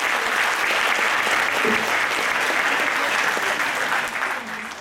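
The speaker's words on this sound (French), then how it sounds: "on peut applaudir encore une fois bien fort" A magic show audience in a hall gives dense, loud applause, a continuous wash of many clapping hands that thins slightly near the end.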